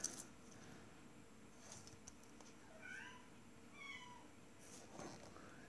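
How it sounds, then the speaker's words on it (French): A small cat meows a few times at moderate distance, short rising and falling cries over a steady low background hum. "c'est mon petit chat qui miaule"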